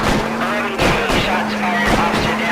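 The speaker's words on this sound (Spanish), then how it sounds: "Hay disparos, hay disparos." L.A. Noire shootout gunshots crack out in several sharp bursts over a constant engine hum and radio chatter, with people talking throughout.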